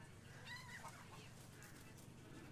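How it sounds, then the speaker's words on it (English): A chicken in the video game Resident Evil Village gives a few short, quiet clucks early on against a low, steady ambient background. "It's just a chicken."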